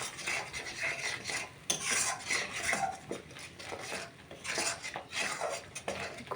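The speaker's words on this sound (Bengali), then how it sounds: "মিশ্রণটাকে ভালো করে কষিয়ে নেব" A spiced karela (bitter gourd) mixture with turmeric and salt is stirred and sautéed in a pan, with repeated close scraping and rubbing of a utensil against metal in uneven bursts and no voices.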